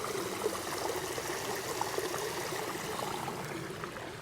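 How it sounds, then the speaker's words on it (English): Water trickles steadily at a garden center, a soft continuous babble and splash like a small fountain or stream, quiet and even throughout with no voices. "just listen to that water and just chill out for about an hour"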